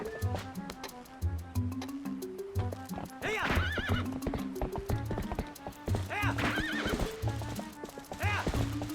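Horse in a Legend of Zelda game trotting with rhythmic clip-clop hooves and whinnying repeatedly, fairly faint, with brief game sound effects.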